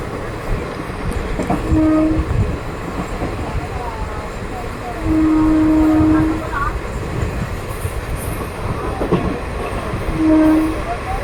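The Sai Nagar Shirdi Express rumbles steadily through Garla halt station without stopping, with three long horn blasts sounding at intervals over the continuous rolling noise of the wagons.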